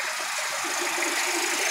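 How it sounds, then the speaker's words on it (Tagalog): A 29-year-old Toyota Tamaraw FX engine idles quietly and evenly, a steady mid-pitched hum mixed with broad airy hiss from the blower, continuous throughout without variation. "Yan, tahimik ang makina niyan"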